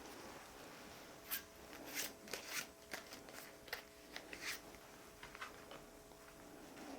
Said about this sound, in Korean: 소울 메시지 카드 뽑아 보겠습니다